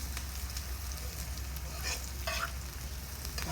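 Garlic frying and caramelizing in a hot pan gives a steady close sizzle, with brief scraping stirs partway through and no talking.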